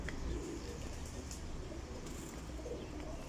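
A pigeon kept for pigeon flying coos softly once or twice at the start, faint and close, over quiet background noise.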